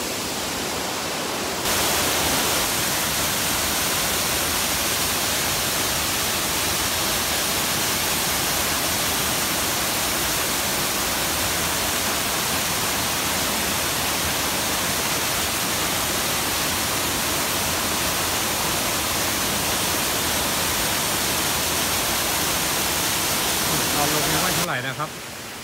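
At Than Lot Yai cave in Kanchanaburi, a waterfall roars as a dense, constant rush of water that stays loud and unbroken for about twenty-five seconds.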